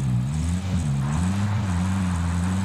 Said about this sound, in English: chopper straight ahead